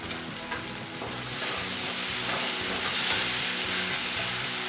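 Chopped tomatoes sautéing in a pan for a prawn thokku, a steady, loud frying sizzle with occasional stirring, growing slightly fuller midway through with no talking.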